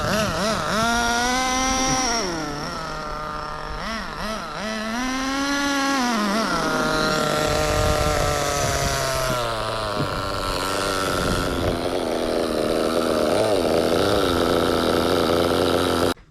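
A small nitro engine in a CEN Fun Factor MT2 radio-controlled monster truck, just revived after years unused, runs with a high, buzzing whine that rises and falls in pitch as the throttle is worked, close and continuous.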